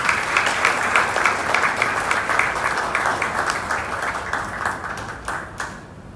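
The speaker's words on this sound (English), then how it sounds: "A round of applause." An audience at an energy conference in Nairobi applauding with sustained, dense clapping that gradually thins and fades over several seconds.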